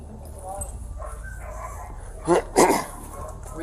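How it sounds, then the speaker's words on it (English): Dogs indoors give a couple of short, sharp barks in quick succession, heard at moderate loudness through a murmur of voices and room noise. "My dogs are inside."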